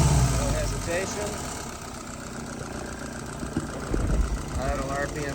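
Yanmar YS 950S tractor diesel engine idling at about 640 RPM, a steady close low rumble with light knocking, someone talking over it.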